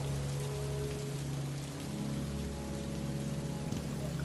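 Steady rain falls through a rainy night at a tea stall, an even wash of patter over a low continuous hum, with no voices.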